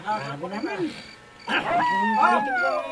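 A dog howls in long wavering, rising and falling tones, close and clear, in two drawn-out bursts separated by a brief pause.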